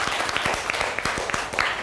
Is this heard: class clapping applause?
yes